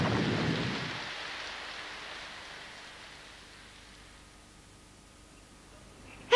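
Thunderstorm with rain in an animated film: a loud rumbling thunder burst opens, then fades into a steady hiss of rainfall that gradually softens and thins toward the end.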